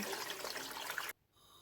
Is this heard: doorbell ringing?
no